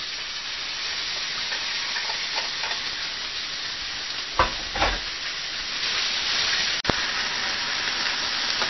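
Steady loud sizzling of chicken frying in hot oil in a pan over high heat, with a burst of stirring clatter partway through and a sharp click near the end.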